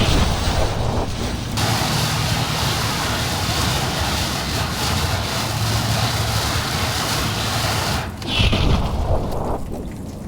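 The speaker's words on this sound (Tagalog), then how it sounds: "At lakas ng hangin." Strong wind roars through heavy rainfall in the UAE, a constant loud rushing noise that buffets the microphone almost without break, easing briefly near the end.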